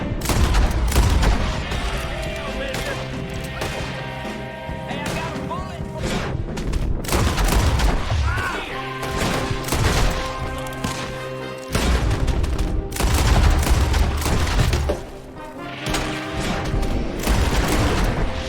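Gunfire in Red Dead Redemption 2 during the epilogue, a dense loud barrage of shots and booms with music layered underneath, running continuously with short lulls and bursts of renewed fire.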